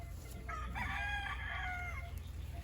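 A pure golden boy rooster, bred from farm stock, crows once in a single drawn-out call of about one and a half seconds, fairly close, over a steady low background hum.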